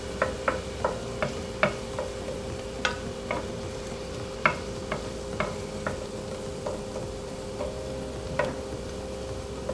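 Vegetables sweating in a pan for Alfredo sauce give off a soft, steady sizzle with scattered light pops and clicks, close by and alone.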